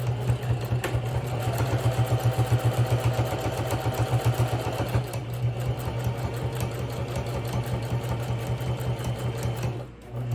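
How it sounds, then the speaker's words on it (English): Sewing machine stitching across a fabric toiletry and makeup box pouch, a loud rapid mechanical chatter running continuously and close, with a brief pause near the end. "now we're going to stitch"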